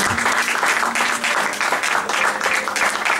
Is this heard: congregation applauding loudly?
yes